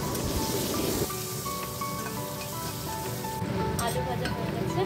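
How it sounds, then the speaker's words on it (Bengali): Potato pieces seasoned with salt and turmeric fry in rice bran oil, giving a steady, close hiss and sizzle that runs the whole time with a quieter spell partway through. "ওই তেলেই কয়েক টুকরো আলু দিয়ে দিলাম। আলুটা নুন আর হলুদ দিয়ে ভেজে"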